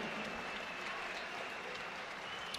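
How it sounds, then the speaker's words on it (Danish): Audience in Brøndbyhallen applauding a fighter at a Muay Thai event, a continuous wash of clapping from a large hall, moderately distant and steady for the whole stretch. "Giv ham nu en kæmpe hånd her i Brøndbyhallen"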